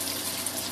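Tap water runs steadily in a kitchen sink to rinse a sticky glass molasses jar, a continuous close splashing hiss.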